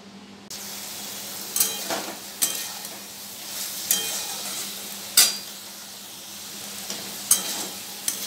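Soybean chunks stir-fried in a pan, a low continuous sizzle under sharp metallic spatula scrapes and clinks against the pan every second or so, close up with no voices.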